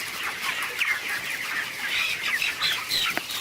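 Broiler chickens cluck and chirp in a steady, busy chorus, close and moderately loud, with a few sharper squawks and no talking.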